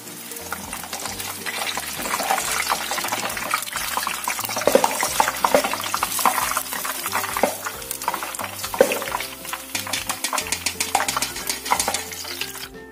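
Steady bubbling and crackling of oil as food deep-fries, with occasional clinks of a utensil against the pan; no voices.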